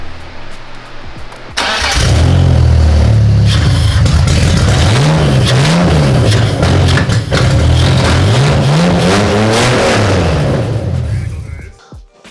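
A BMW M54B30 straight-six cranks and catches on its first startup in an E46 wagon, then settles into a loud, steady idle with several rising and falling revs before cutting off near the end.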